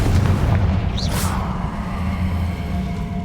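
A Confringo blasting spell explodes in the Hogwarts Legacy video game, a loud booming blast with a brief whoosh over a continuous rumbling low background, with no talking.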